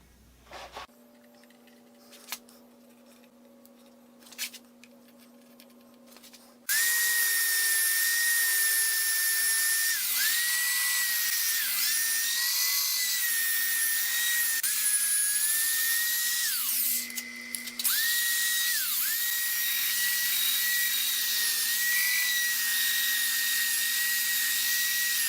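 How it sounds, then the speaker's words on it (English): After a few quiet knocks, a high-pitched whirring of a lathe sanding an oak bowl starts suddenly and runs steadily, dipping briefly once in pitch and pausing before resuming, loud and close. "We're going to sand from now on."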